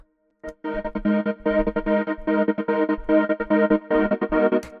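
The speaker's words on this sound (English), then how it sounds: "Then we got an echo." Distorted, chorus-laden synth chords in a Eurodance production, pulsing in choppy rhythmic bursts with echo repeats smearing them out, loud and upfront with no voice over it.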